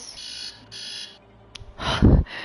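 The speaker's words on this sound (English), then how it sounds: "That was my alarm clock." An alarm clock rings in the Banishers: Ghosts of New Eden game, sounding as two short electronic beeping bursts, followed by a louder thump and rumble near the end.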